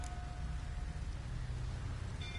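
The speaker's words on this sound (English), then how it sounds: "Looks like rain." Steady game rain from a PS4 game falls as a continuous, even hiss with no pauses, carrying a soft low rumble beneath it at moderate level.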